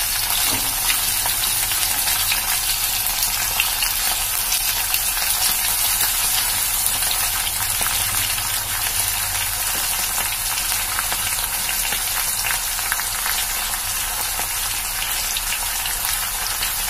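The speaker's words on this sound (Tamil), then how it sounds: "ஃபர்ஸ்ட் நம்ம இதல கத்திரிக்காய் போட்டு தான் வதக்கணும்" Brinjal sautéing in a pan for pepper roast, an unbroken loud hissing sizzle like steady rain, with barely any stirring strokes and no one speaking.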